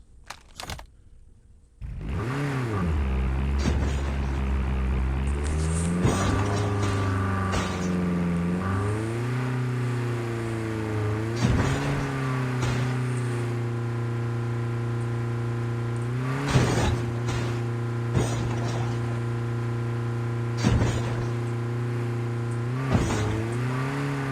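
A vehicle driven in the mobile game Call of Duty Mobile: a steady engine drone with rising and falling revs as it shifts and accelerates, plus occasional sharp clicks and bumps over the continuous motor.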